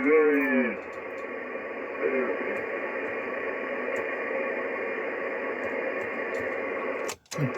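Shortwave ten-metre amateur radio reception through a Kenwood TS-830S and 5/8-wave vertical, a steady hiss of static with a signal that swells and fades, ending in a brief sharp dropout and crackle.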